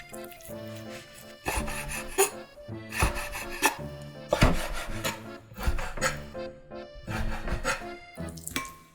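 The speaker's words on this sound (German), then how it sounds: "Das heißt, auch in dünne Streifen schneiden." A knife slices chicken breast fillet into thin strips for a Chinese-style dish. Close bursts of quick, rhythmic cutting strokes on a board, with short pauses between each run.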